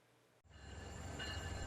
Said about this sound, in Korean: 캘리포니아주 통근 열차 캘트레인이 모처럼 사람들로 붐빕니다.